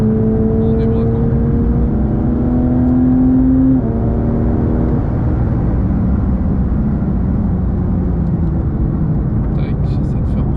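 A Porsche 911 GT3 992.1 accelerates out of a corner on the Spa circuit, its engine note climbing loud and close, with a gear change partway before the howl carries on steadily.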